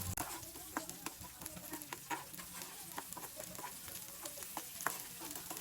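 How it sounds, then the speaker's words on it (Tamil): Sliced large onion, green chillies and dried red chillies sauté in a pan, a quiet, steady sizzle punctuated by frequent light clicks and scrapes of stirring, heard up close without talking. "இப்போ நம்ம கட் பண்ணி வச்சிருக்கிற இந்த பெரிய வெங்காயமும், இந்த பச்சை மிளகாய், இந்த மிளகாய் வத்தல் 2ஐயும் சேர்த்துட்டு நல்லா வதக்கி விடணும்."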